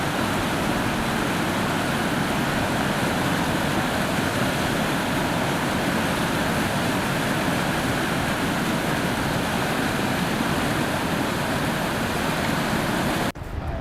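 Class II technical rapids on the Missinaibi River roar steadily and loudly throughout, a dense unbroken rush of whitewater that cuts off abruptly at the very end.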